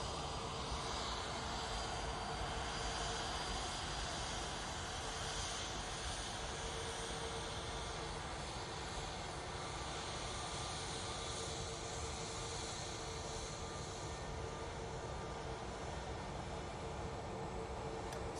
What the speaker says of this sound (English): So we've got this A320 Neo going back off to London